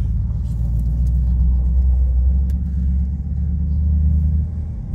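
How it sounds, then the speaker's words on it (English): A 1969 Mercury Marquis drives and accelerates, its deep engine rumble steady and loud from inside the car with a slight swell as speed builds. "the car runs and drives. We'll get up some speed here."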